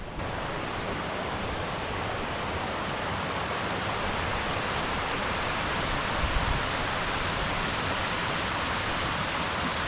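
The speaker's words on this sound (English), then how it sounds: "And then we've got our own waterfall." A waterfall at a remote camp produces a constant, dense rushing roar of falling water, steady and loud throughout, with no voices.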